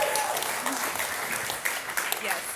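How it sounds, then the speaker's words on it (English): An audience applauds at a morning talk, a soft, even patter of many hands heard from a distance that holds for a couple of seconds. "But will you give another round of applause for Megan this morning?"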